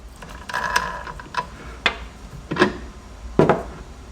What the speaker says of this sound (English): And then we're going to go ahead and undo this top nut.